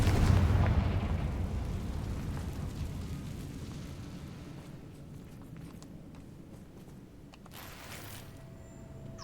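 A Confringo blasting spell from Hogwarts Legacy bursts with a loud boom at the start, then rumbles and decays slowly over several seconds, ending with a few faint clicks.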